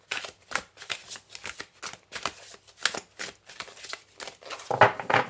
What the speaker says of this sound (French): C'est du sport de mélanger ces cartes